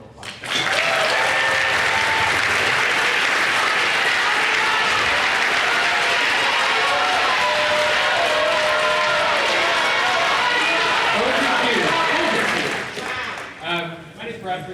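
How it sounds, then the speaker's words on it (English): Sustained, loud audience applause at a Harris County district attorney candidate forum, steady clapping from a large crowd for about thirteen seconds before tapering off, with a few scattered claps at the end. "we'd like everyone to give them a round of applause"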